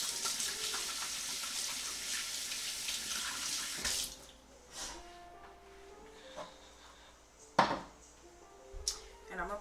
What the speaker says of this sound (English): And then I need to wash my hands